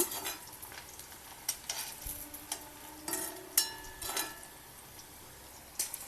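Pakoras crackle and sizzle in hot oil in a home kitchen, with a steady frying hiss broken by sharp spatters and the clink of a utensil stirring them.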